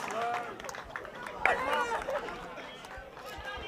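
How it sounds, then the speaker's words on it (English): Spectators cheering at a school under-18 rugby sevens match, a lively roar of crowd voices and shouts rising around a run, with commentary talk over it. "This crowd has come to life."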